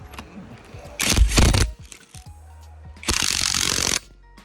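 An impact wrench driving the shock absorber nut on a Toyota Corolla AE110 strut, two loud close rattling bursts of about a second each separated by a quiet pause, with small metallic handling noises around them.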